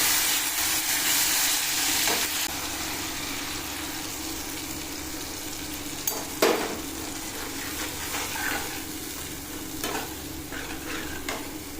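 Spices and tomato sauté in a kadai, a steady close-up sizzle broken by the scrape and clatter of stirring, with a few sharper clinks of the spoon against the pan.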